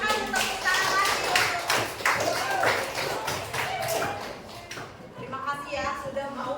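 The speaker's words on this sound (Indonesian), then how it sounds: "Terima kasih, tepuk tangan lagi." High school students in a class clap together in a burst of close, sharp handclaps that thins out near the end, with voices mixed in.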